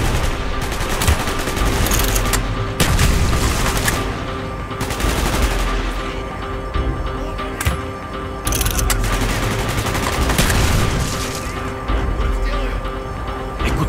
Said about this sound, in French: Les coups de feu attirent l'attention.